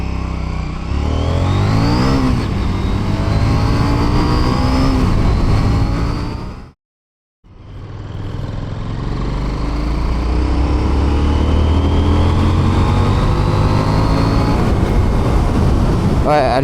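Husqvarna Vitpilen 801 motorcycle engine revving hard toward 6000 rpm, a loud close roar with rising pitch sweeps, a brief cut to silence midway, then more sustained high-revving under a continuous drone.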